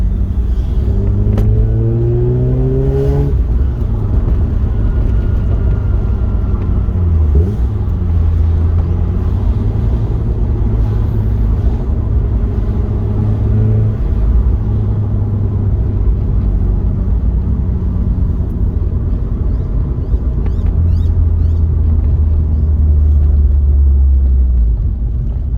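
A Mazda RX8 engine runs with a deep, steady rumble heard from close up, rising and falling through several revs and gear changes over a long stretch, with no talking.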